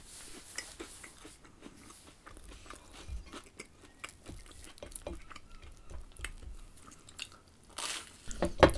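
Someone chews cave-aged cheddar from Cheddar Gorge, close and fairly quiet: soft irregular bites and mouth noises run for several seconds over a faint background, getting a little louder near the end.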